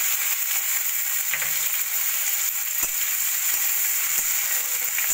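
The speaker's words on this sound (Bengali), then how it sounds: "কড়াইতে তেল গরম বসিয়ে দিয়েছি, দিয়ে দেব সামান্য জিরে ফোড়ন।" Cumin seeds tempering in hot oil in a wok, giving a steady bright sizzle with faint crackles and a few sharp pops, close and continuous throughout with no talking.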